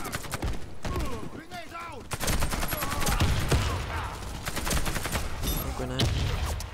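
Rapid bursts of FY 103 gunfire in the video game Warface crackle in quick, repeated volleys, loud and close, with game effects and a player talking at times over the shooting.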